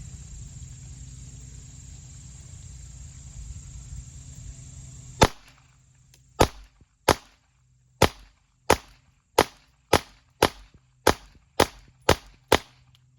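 A CZ P-09C Nocturne pistol fires about a dozen sharp shots at a steady, quick pace outdoors, after several seconds of quiet insect-like buzzing with no shots.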